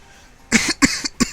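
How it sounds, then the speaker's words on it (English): A person coughs and clears their throat, three short harsh bursts spaced about a third of a second apart, close to the microphone and alone with no speech. "apologies for the constant coughing and throat clearing and all that stuff"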